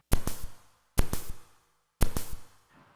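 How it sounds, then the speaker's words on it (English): Three identical bursts of distorted guitar noise, one per second, each striking hard and fading quickly with a ringing tail. "that's from a feedback sample pack of just random guitars and stuff that are being"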